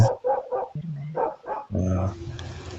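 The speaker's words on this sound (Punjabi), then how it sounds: "ਕੁੱਤੇ ਹੋਰ ਕੁੱਤੇ ਹੋਰ ਭੌਂਕੀ ਜਾਂਦੇ ਆ" Several dogs bark in short, loud bursts close by, with a steady lower drone and some background noise continuing toward the end.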